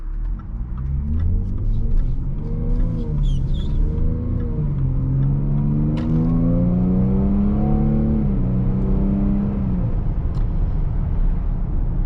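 A 2017 Jaguar F-Pace 35T Prestige AWD accelerates on the road, its engine note climbing through several upshifts with rising whine and rumble, heard steadily from inside the cabin with no talking.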